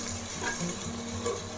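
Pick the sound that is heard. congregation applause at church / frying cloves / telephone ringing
frying cloves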